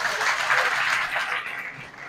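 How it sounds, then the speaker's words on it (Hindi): An audience at a Janmashtami class in Borivali applauds, a soft wash of many hands clapping that fades toward the end. "मैं आप सबसे विनती करूंगा सभी श्रोताओं के लिए जोरदार तालियां हो जाए"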